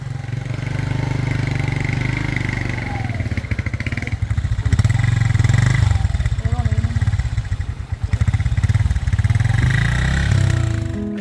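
Motorcycles in the Tanzanian jungle, a loud close engine drone with a rapid throbbing pulse that rises and dips as the riders move, with a brief sputter toward the end.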